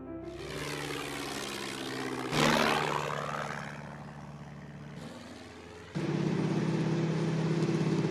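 A propeller airplane drones steadily overhead, its engine tone shifting and swelling in loudness as it passes, on a wartime reconnaissance flight to locate troops.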